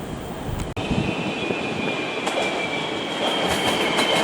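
An MRT train bound for Sentul Timur pulls into a station, with a loud sustained rumble, a high whining squeal from the wheels and a sharp clunk early on, and no voices.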